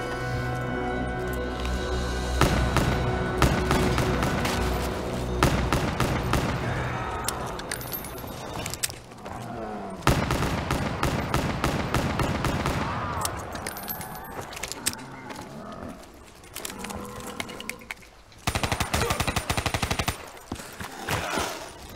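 Automatic gunfire from Call of Duty Zombies, dense bursts of rapid shots repeating through the span with mechanical clatter and game effects layered between, loud and close.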